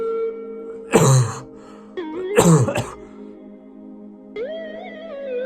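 Two harsh, loud coughs close to the mic, separated by a short pause, over a steady tonal hum with a rising electronic tone at the end.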